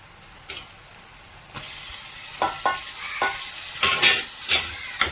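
Chopped tomatoes being stirred into a frying prawn masala, starting as a quiet sizzle, then a run of sharp, repeated spatula scrapes and clacks over a steady hiss, close and fairly loud.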